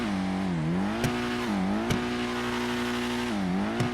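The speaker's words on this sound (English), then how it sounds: "I don't know why the whole car moves when I rev it." A Dinka Blista Kanjo, a Honda Civic-style car in GTA 5, revs repeatedly near idle, its engine tone rising and falling in smooth swells broken by short sharp pops, loud and alone.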